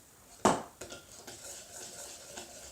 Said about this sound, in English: just stir that up